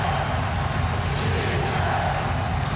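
Basketball crowd at Staples Center during the 2001 NBA Finals between the Lakers and 76ers, a loud, dense wall of voices chanting with rhythmic swells throughout.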